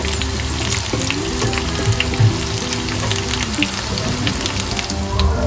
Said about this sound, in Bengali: দেখুন এরকম হালকা ব্রাউন করে কিন্তু আমি সবকটা চিকেনই ভেজে নেব